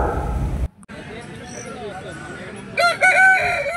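A rooster crows briefly near the end at a busy chicken market, following loud low rumble and background noise, with a few other fowl sounds faintly present.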